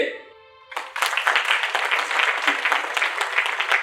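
Audience at a talk bursts into applause: a sustained, loud wash of many hands clapping starts abruptly after a brief tone and continues steadily to the end.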